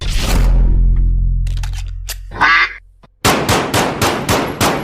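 Several loud, close duck quacks used as a sound effect, first a long low tone, then a nasal quack and a rapid burst of repeated quacks at the end.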